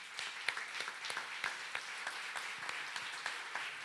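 Audience applause at a conference for two reading researchers, Fernanda Leopoldina Viana and Yolanda Ribeiro, heard as a moderate, fairly steady patter of many hands clapping in a hall.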